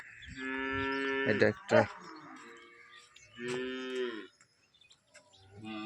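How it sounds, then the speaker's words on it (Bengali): A large cow moos in several long, deep, drawn-out calls close by, separated by short pauses, with a man's brief speech heard between the calls. "অনেক বড় গরু।"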